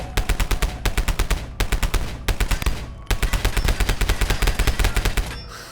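A heavy machine gun pistol from a Fallout 4 pipe weapons mod fires in rapid, loud automatic bursts. Several strings of sharp, evenly spaced shots are broken by short pauses, and the last burst trails off.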